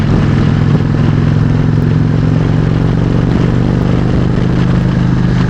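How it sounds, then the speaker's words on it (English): An Indian Chieftain motorcycle's exhaust pipes give off a steady, loud, low engine drone throughout, with a constant rumble and no pauses. "Pipes sound really nice, and I'm not even sure if these are stock pipes or aftermarket pipes, but they do sound nice."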